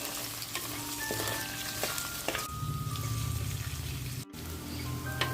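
Chopped ginger, shallots and garlic fry in a clay pot for beef, a steady close sizzle with occasional spoon knocks and a short break partway through, no voices.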